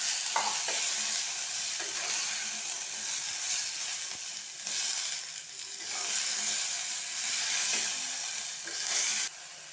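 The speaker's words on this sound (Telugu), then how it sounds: "కొంచెం కలర్ వచ్చేదాకా వేయించుకోవాలన్నమాట" Ivy gourd pieces frying in a pan while being stirred, giving a continuous bright sizzle with periodic scraping and rattling strokes, close up and without speech.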